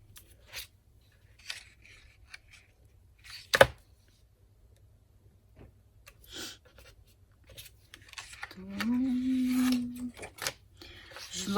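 Quiet, sparse scratchy strokes of a craft knife through paper, one sharp click, then a longer rasping cut near the end.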